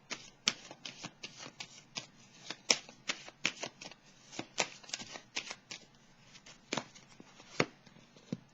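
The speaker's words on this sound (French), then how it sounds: "Là, je vais piger une carte ici." Tarot cards are shuffled and drawn by hand, a close run of crisp riffling flicks and slaps in an uneven rhythm, with no talking.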